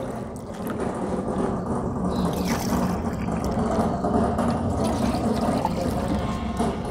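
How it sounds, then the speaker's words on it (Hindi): Water is drawn and poured from a lota vessel during jal neti preparation, a continuous close splashing and gurgling flow that swells slightly midway, with no voices. "लोटे से पानी लिया जाता है,"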